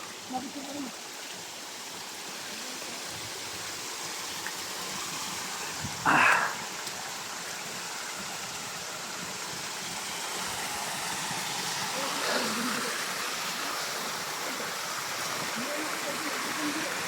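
Clear stream water of the Bagsit River flows in a soft, constant wash, with a brief louder splash or knock partway through and people talking nearby.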